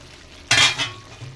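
Meat and vegetables for a chicken curry are stirred in a pan, with one short loud scrape and sizzle as the spatula sweeps through, then a quieter second stir.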